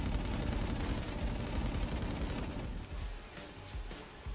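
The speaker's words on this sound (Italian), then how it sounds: "C'è una torretta anche là. Però spara a raffiche." Automatic turret in the game inFamous Second Son firing in rapid bursts, a dense, loud crackle of gunfire filling most of the clip before easing slightly toward the end, with no talking.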